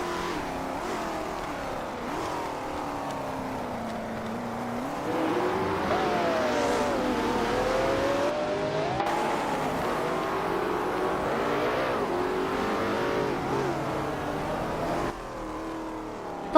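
Race cars in a racing video game overtaking one another, engines whining and revving loudly with rising and falling pitch as they jostle for position, continuous and close, without talk.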